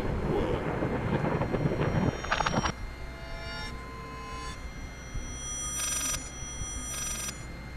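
A telephone rings inside the horror video game Layers of Fear, its bell bursts sounding in short repeated pulses after a loud rumbling passage, fairly clear against a low background hum.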